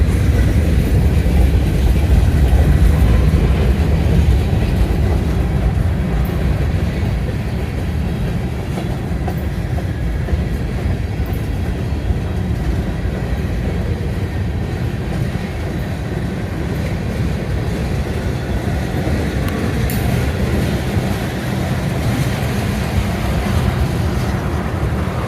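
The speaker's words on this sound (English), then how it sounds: "Yeah, for sure, it's a big train." A long Conrail freight train on the Vineland Secondary line in Woodbury, New Jersey, rolls past nearby with a loud, steady rumble and a faint clatter of wheels that continues without a break.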